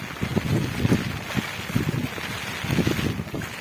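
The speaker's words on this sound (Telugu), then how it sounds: "ఒక పక్క గాలి ఎక్కువగా ఉంది" Strong gusty storm wind buffets the microphone in low rumbling bursts, loud and close, rising and falling unevenly.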